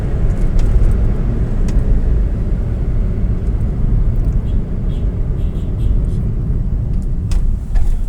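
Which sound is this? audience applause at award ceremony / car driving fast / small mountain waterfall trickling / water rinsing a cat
car driving fast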